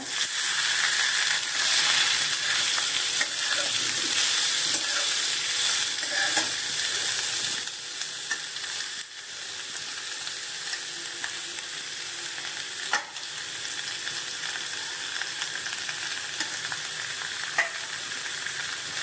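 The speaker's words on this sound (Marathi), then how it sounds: "हे परतून घेऊया त्याच्यामध्ये आता आपण खिचलेलं गाजर टाकूया" Grated carrot sautés in a pan for gajar halwa, a loud steady frying sizzle with scraping stirs that drops somewhat in level midway and continues evenly, no talking.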